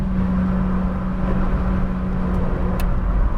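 A 2020 Honda Civic Si with the high-performance tire option drives a race track, its engine droning steadily and close with a constant low hum and road roar throughout, no voices.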